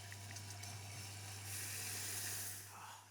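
Cream added gently to hot caramel in a pan over low heat gives a soft hiss and bubbling that swells briefly midway, then settles, over a faint steady electrical hum.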